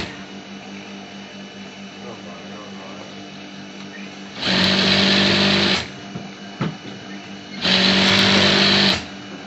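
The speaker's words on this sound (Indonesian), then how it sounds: "Jadi untuk pertama kali kita jahit dulu badan belakangnya sesuai tanda." An electric sewing machine runs in two sustained bursts of stitching, joining the back body panel of an almamater jacket, loud and steady with a brief pause between the runs over a quiet room background.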